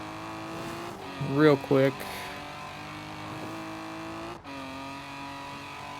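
Fast car in Forza Horizon 4 on a coastal drive, its engine a steady close drone with shifting pitch while someone talks briefly over it.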